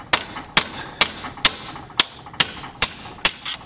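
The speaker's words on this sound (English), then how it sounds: "Use a chisel and a hammer and tap it out of the transmission." Hammer striking a chisel to tap an axle oil seal out of a Toyota Corolla transmission's half shaft housing: eight sharp metallic taps at a steady, roughly half-second rhythm, close and clear with no talking.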